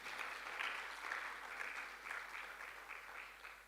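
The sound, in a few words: audience applause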